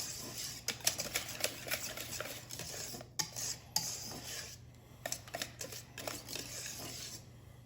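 Whisk or spoon stirring a mixture into hot cream for French pastry cream: quick scraping and light clinks against a pot, continuous and fairly faint, with a steady low hum beneath.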